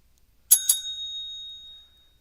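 A small bell is struck twice in quick succession, its bright metallic tone ringing on and slowly fading over about a second and a half in an otherwise quiet room.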